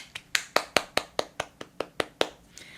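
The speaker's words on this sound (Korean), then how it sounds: "박수!" About a dozen sharp hand claps in a steady, evenly spaced rhythm, from one or a few people close by, greeting a guest being introduced on a talk show. No voices are heard.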